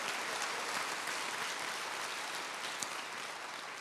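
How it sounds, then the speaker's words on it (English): Sustained applause from a keynote audience at an engineering education conference, dense and steady clapping filling the room for several seconds without pause. "let's give applause for that band that was up here"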